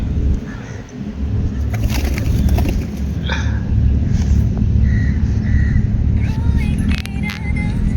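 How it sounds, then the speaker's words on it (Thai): Crows cawing outdoors at a stone bridge in Phuket where children feed pigeons, with several short harsh calls over a busy background of wind, traffic and chatter, while people talk nearby. "เอาอีกามาแล้ว แต่มันจะไล่แล้วนะอีกาแย่งหมดแล้วลูก"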